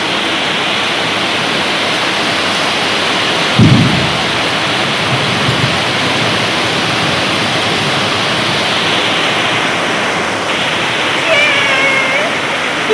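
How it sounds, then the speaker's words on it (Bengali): Heavy rain pours steadily during a hot-season downpour, a dense continuous hiss with a low rumble of thunder near the four-second mark and no talk. "অবশেষে একটা স্বস্তির বৃষ্টি, বিশাল বৃষ্টি হচ্ছে, মানে সাংঘাতিক ধরনের বৃষ্টি"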